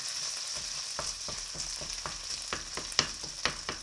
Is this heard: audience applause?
no